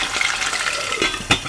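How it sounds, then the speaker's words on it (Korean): Pork belly for dongpo pork frying on its sides in a pan, a dense, close crackling sizzle with a sharper pop near the end, no voices. "자, 옆면 튀겨줍니다, 옆면."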